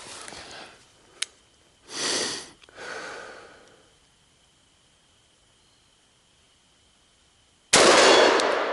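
Rifle fitted with a Trijicon ACOG optic fires a single loud, close shot near the end, after breathing sounds and a long quiet pause with faint insect chirping.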